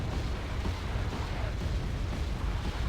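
Explosions from an artillery barrage in Wargame AirLand Battle merge into a steady, heavy rumble, with muffled booms piling on top of each other without pause.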